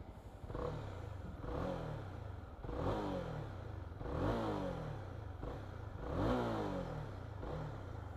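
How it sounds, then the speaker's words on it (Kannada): A Honda CB300R motorcycle engine revs repeatedly, its exhaust note rising in pitch several times over a steady, throaty idle, close and continuous. "ಎಕ್ಸಾಸ್ಟ್ ನೋಟ್ ಒಂದ್ಸತಿ ಕೇಳಿಸ್ಕೊಂಬಿಡಿ."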